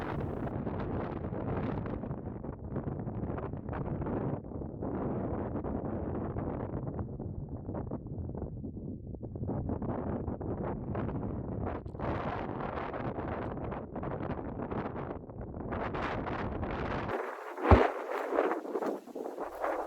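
Steady, strong wind on a mountain ridge roars against the microphone in long gusts, briefly dropping near the end before a sharp knock.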